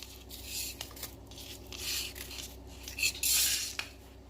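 Small crisp rustles and light clicks as one shallot is pulled apart from a bunch, near and fairly faint, in short bursts with brief pauses and no talking.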